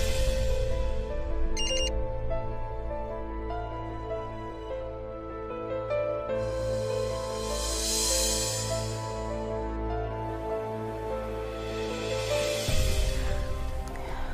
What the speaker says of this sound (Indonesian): malam-malam gini siapa yang SMS?